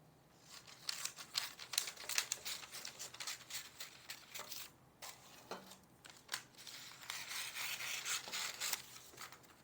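Parchment paper is handled and cut while preparing a potato kugel, with soft, fairly close crinkling, rustling and tearing-like snips in irregular bursts and no talking.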